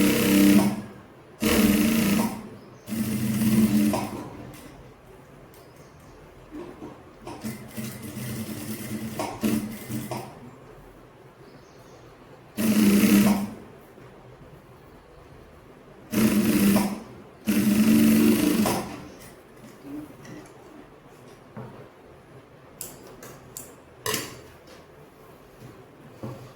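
Sewing machine stitching side seams of a kurti in several separate bursts, each a few seconds long with short pauses between, loud and close, with quiet room tone in the gaps.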